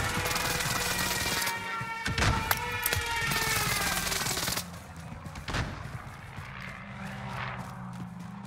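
Explosions from a precision airstrike in Call of Duty on the Caldera map, heavy booming blasts and crackling gunfire-like bursts in a loud, dense barrage that drops to scattered distant thuds and debris afterward.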